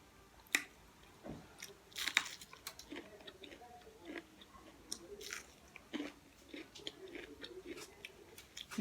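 Close, quiet mukbang eating of bread, onion rings and spicy chicken wings, with irregular wet chewing, crunchy bites and small clicks scattered across the stretch; no talking.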